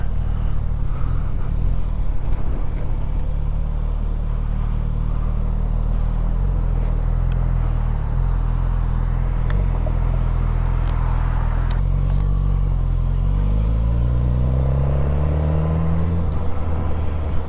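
A 2026 Suzuki GSX-S 1000 motorcycle rides along a road with a loud, steady engine drone and heavy rumble. Its pitch climbs as it accelerates toward the end.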